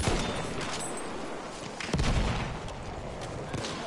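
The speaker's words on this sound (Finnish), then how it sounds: "noin räjähdykset on kyllä muikeita tässä" Battlefield 1 battle noise: a dense, continuous roar of gunfire and blasts, with a heavier thump near the middle, at moderate level and no clear voices.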